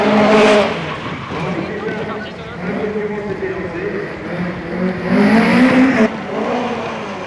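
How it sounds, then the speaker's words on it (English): Opel Manta rally car roars away and slides at the 1988 Race of Champions, engine rising and falling with bursts of tyre squeal, loud and close throughout under commentary. "we have the Opel Manta. This, of course, is one of the really trusty, tried and trusted rally cars."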